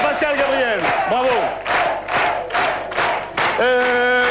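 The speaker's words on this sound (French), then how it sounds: "Applaudissements à Pascal Gabriel, bravo." A French television game-show studio audience in 1999 shouts and cheers in rhythmic, chant-like bursts of many voices. The bursts are loud and fairly close, with no steady clapping standing out.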